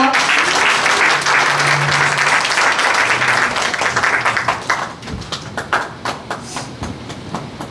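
An audience at a book launch event gives a loud, full round of applause to welcome the author, dense at first and then breaking into sparse, separate claps as it dies away.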